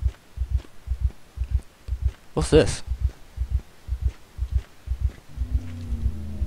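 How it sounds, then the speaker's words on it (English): A steady, low thumping heartbeat pulses throughout in the horror video game Stalked, double beats repeating evenly while a player speaks briefly over it and a hum rises near the end. "The heartbeat?"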